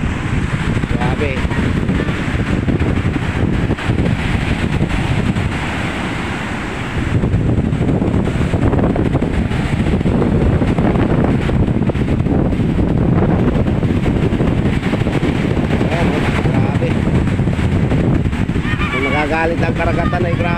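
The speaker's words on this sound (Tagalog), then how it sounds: "Lalakas ng alon." Strong sea waves surge and crash near a coastline lined with houses, under heavy buffeting wind noise on the microphone, with a loud, continuous roar and a brief lull midway; someone speaks throughout.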